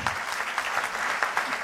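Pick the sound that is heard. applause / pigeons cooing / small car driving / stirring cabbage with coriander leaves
applause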